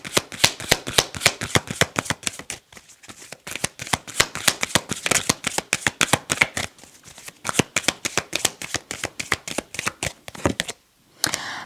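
A deck of tarot cards is shuffled in rapid riffling bursts, dense crisp flutters repeating nearly nonstop with a couple of brief pauses, close and alone.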